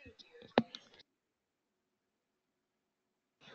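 A single sharp computer mouse click on a look-up button in retail point-of-sale software, landing in the middle of a person's talking and followed by near silence.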